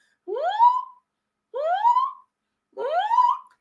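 A voice imitates the wheezy breathing whistle of asthma three times, each a rising, strained whine separated by pauses.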